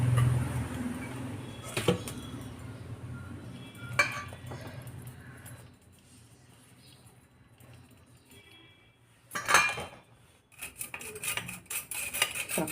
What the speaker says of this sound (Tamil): இதை வந்து நல்லா சளிச்சு எடுத்துக்கிடுவோம்